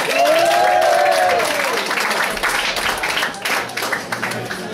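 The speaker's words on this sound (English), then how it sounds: "give them a round of applause" An awards-night audience applauds the first team squad at the Shrimpers Trust player of the year event: a loud, sustained wash of clapping that gradually thins, with a brief high whistle near the start.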